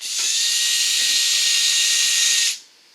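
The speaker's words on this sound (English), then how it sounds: "Then we took a drill, like he's doing right now" A high-pitched power drill whines steadily for about two seconds at close range while working on a 1970 Appleby pop-up tent camper, then stops abruptly, leaving quiet room tone.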